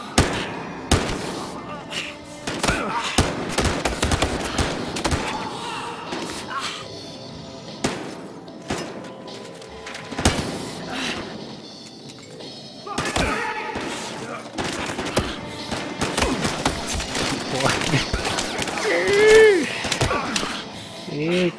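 Bursts of rapid gunfire in the video game Battlefield Hardline crack repeatedly, some in quick volleys, mixed with excited shouting and talk throughout.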